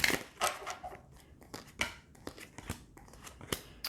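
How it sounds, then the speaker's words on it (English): Crisp, irregular riffling and slapping of tarot cards being shuffled close up, quick papery snaps in uneven bursts against a quiet room. "Last shuffle."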